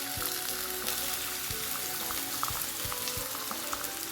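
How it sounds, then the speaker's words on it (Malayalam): Sliced onions sautéing in hot oil in an iron pan, a constant loud close sizzle with occasional low knocks and scrapes from stirring, no voices. "ഈ സവാള ഇതിലേക്ക് ഇട്ടിട്ട് വഴറ്റി കൊടുക്കാം."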